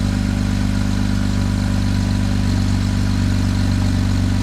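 A BMW engine idles steadily while warming up, a loud, even, close-up drone with a constant low throb and no talk over it.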